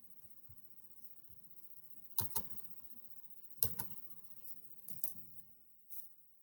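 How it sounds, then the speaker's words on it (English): Computer keyboard typing, heard as sparse clusters of light clicks and taps in short bursts separated by quiet gaps, close and fairly soft with no talking. "I'm going to type in the problem."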